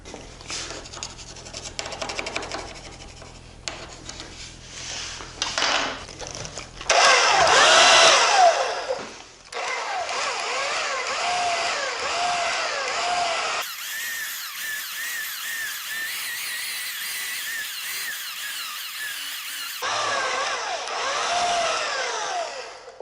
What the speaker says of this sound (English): I'm just going to do a little belt sanding on the corners to flatten them out